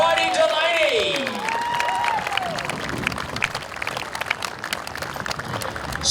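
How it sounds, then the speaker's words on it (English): A crowd applauds the winner of the 2016 Leonora Golden Gift footrace in Australia, steady clapping building behind an announcer's voice, with some whistling at the start. "Let's give her a big round of applause."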